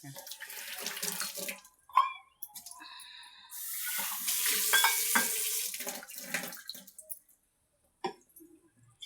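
Water splashes and runs steadily for a few seconds as it is poured into a water filter, close by, with some clatter before it and brief quiet afterward.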